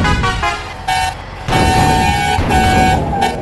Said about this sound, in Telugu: ఓకేనా, అలా హార్న్ కూడా చూడండి,